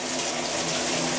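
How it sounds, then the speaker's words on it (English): Steady, dense rush of shower water pouring from a tap in a bathroom, loud and continuous with no voices over it. "I'm about to take another shower, as you guys can see or hear it."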